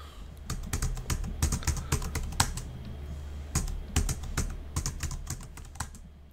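Keys clatter on a computer keyboard as a username is typed while setting up a SUSE Manager server, quick uneven taps in bursts with short pauses, close and fairly soft.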